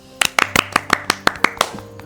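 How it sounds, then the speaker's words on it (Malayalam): About nine sharp hand claps in a quick, slightly uneven rhythm, close and crisp, over a faint sustained tonal background. "അപ്പൊ എനിക്കൊരു ക്ലാപ്പ്."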